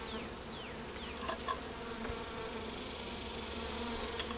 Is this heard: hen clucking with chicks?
no